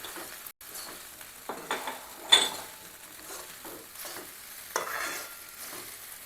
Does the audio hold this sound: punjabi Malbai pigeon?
no